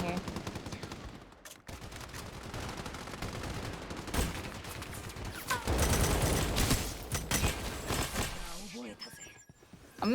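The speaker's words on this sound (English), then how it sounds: "A million people shooting at me." Dense rapid gunfire from many shooters fills a video game battle, with bursts overlapping in a continuous loud rattle while a voice talks over it.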